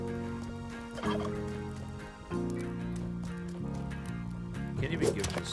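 Turkeys gobble in the video game Spelunky 2, repeated warbling calls mixed into steady game music at a moderate level.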